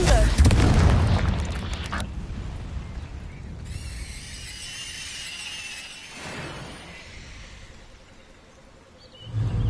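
Confringo blasting spells explode in the Hogwarts Legacy video game: a loud, crackling burst opens the clip and decays into a hissing, glassy rumble, and another sharp blast hits near the end.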